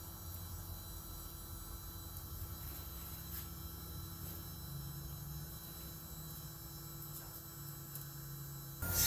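A DW300c aftermarket fuel pump in a 3.5L EcoBoost Explorer SHO Flex runs at 18 volts and 50 psi, giving off a steady, continuous electric hum and whine that holds level throughout, with a brief louder bump at the very end.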